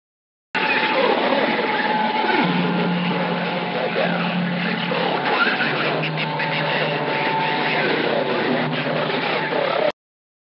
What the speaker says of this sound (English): You're hearing skip rolling in from multiple parts of the country in the United States.